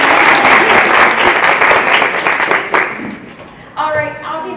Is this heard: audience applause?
yes